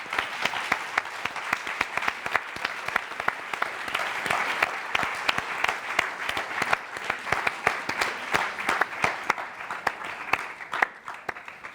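An audience applauds the event staff at an evening gathering, with dense, steady clapping from a sizeable crowd that carries on throughout and fades slightly toward the end.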